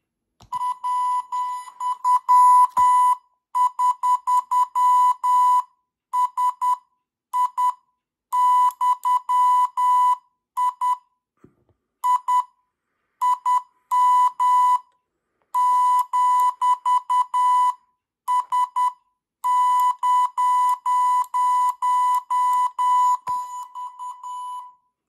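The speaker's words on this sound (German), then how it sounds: "So, und jetzt sollte es auch wieder piepsen." A Putikeeg CW trainer sounds Morse code as a steady pure-tone beeper, bursts of rapid dits and dahs separated by short gaps, clean and loud with no other sound around.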